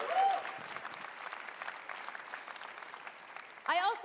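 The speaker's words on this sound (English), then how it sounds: "Give it up for Casey Hudson, everybody" An audience applauds at the EA E3 2018 conference, with sustained clapping under a voice and a louder swell of cheering near the end.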